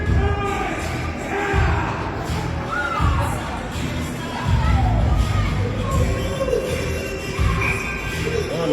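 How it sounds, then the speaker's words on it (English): Hockey arena crowd during a Blizzard versus Kenora Thistles game, a steady roar of cheering and shouting with rising swells, thumps from the ice, and an announcer talking over it. "The crowd really get into that play."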